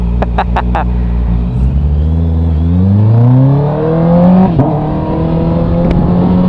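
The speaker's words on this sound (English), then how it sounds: "after 2 years of owning this bike, I finally got myself an aftermarket exhaust" A Honda CB650R motorcycle with an Akrapovic full-system exhaust, silencer removed, revs up, its pitch sweeping steadily higher with a deep, rumbling exhaust tone and a few sharp pops near the start.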